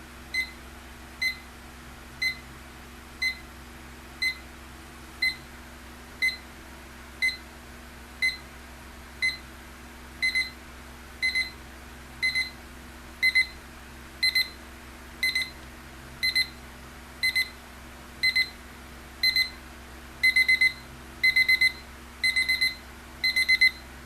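An Equity The Cube alarm clock with a silicone jacket sounds its ascending alarm: short electronic beeps in evenly spaced bursts that grow denser and louder over about 24 seconds, alone over a faint steady hum.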